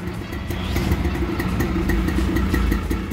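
A Yamaha DT 180 motorcycle engine idles close by, a steady throbbing putter that holds evenly for a few seconds.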